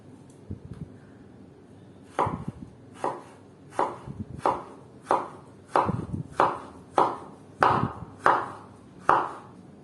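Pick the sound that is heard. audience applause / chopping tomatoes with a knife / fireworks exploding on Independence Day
chopping tomatoes with a knife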